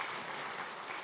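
Applause from the audience at the opening ceremony of the 6th Army Power Forum: a steady, dense wash of many hands clapping, fairly loud and unbroken throughout.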